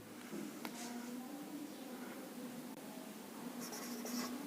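Marker or chalk writing on a board during an economics lesson, soft scratchy strokes in short bursts against a steady background hiss, fairly close, with no talk over it.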